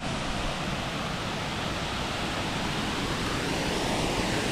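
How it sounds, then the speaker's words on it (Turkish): Roar of the Türkmen waterfall in Manisa, Turkey: a steady, dense rush of falling water, broadband and unbroken, with no voices or other sounds. "Çok güzel bir şelale."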